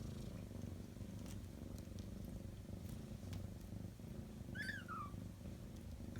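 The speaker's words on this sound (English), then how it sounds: "Her purr's so loud." A mother cat with 11-day-old kittens purrs loudly and steadily up close for several seconds, a continuous low rumble with a faint brief high squeak partway through.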